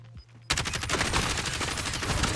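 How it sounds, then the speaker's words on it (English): Gunfire in a Call of Duty Warzone match: after a brief quiet lead-in, a loud rapid burst of automatic shots starts abruptly and rattles on continuously to the end, dense and close. "He's shooting."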